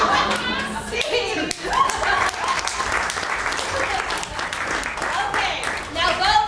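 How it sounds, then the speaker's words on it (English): An audience at a live show applauds and cheers to vote for a favorite performer, a dense, steady wash of clapping with shouts mixed in throughout. "vote for your favorite spike applause"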